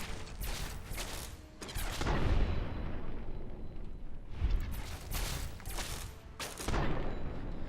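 Grenades and heavy gunfire boom in a Fallout 3 battle. Several loud explosive blasts roll out over a dense, continuous rumble of combat, and the bursts are spaced a few seconds apart. No one speaks over the noise.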